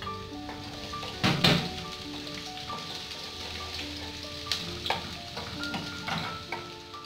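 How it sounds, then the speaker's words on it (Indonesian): Garlic frying in oil for garlic oil, with a spoon stirring in the pan, gives a steady crackling sizzle with sharp scraping clatters and a few louder metallic knocks, close and continuous. "ini aku menggoreng bawang putihnya. Aku akan bikin minyak bawang."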